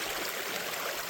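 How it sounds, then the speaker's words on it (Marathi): Water from a waterfall in a jungle pours in a steady, dense rush, close and fairly loud throughout, with no voices over it. "आता धबधब्यापाशी आलोय"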